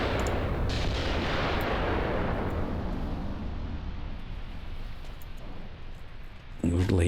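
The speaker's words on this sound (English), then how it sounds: "the artillery's on its way in now" Heavy artillery strike in the Graviteam Tactics war game: a loud booming blast followed by a long rumbling decay that slowly fades, with a sharp fresh crack near the end.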